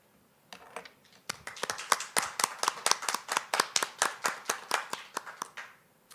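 A single person or small group claps steadily at a graduation ceremony at Cornerstone Institute, about twenty crisp, close hand claps in an even rhythm with no voices.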